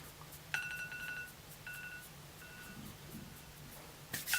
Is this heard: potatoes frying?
no